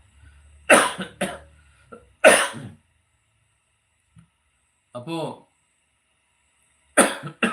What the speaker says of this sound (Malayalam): ചുമ വീണ്ടും തുടങ്ങിയോ